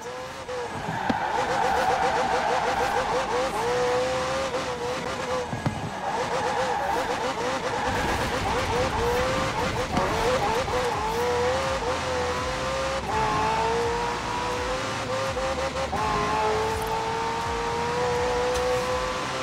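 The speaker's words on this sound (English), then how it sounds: "The car's blistering performance is delivered by a twin-turbo V8, supplemented by a McLaren ECU electric motor and instant power assist system" A McLaren hybrid twin-turbo V8 drives in Forza Horizon 4, its engine droning loudly and steadily with rising and falling revs as it shifts through gears, plus occasional tire noise, continuous and close throughout.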